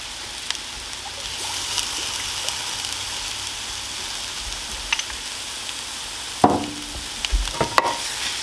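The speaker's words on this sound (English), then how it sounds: "One last stir, it's ready to go." Eggs cooking in a pan with Cholula hot sauce get a final stir under a steady background sizzle, with scraping bursts and a few utensil knocks toward the end.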